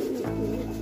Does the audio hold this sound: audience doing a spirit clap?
no